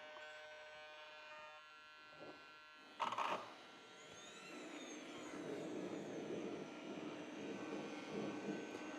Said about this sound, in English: All right, so we are ready to start this engine.